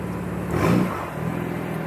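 Lowered car reversing slowly into a parking spot, its engine idling near the listener and rising briefly in a single gentle rev before settling back to idle.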